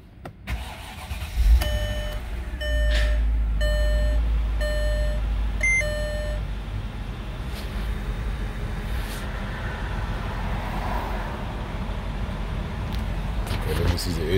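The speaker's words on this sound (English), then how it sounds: "Let me see if I can start the car" The engine of a 2006 Mercedes ML500 cranks and starts, then settles into a steady idle. Dashboard chimes beep repeatedly at the start, and a person talks nearby.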